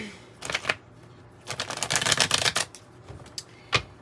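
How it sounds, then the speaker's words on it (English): Tarot cards being shuffled in several quick riffling bursts, close and crisp, with short pauses between them and no talking. "Give it a little shuffle."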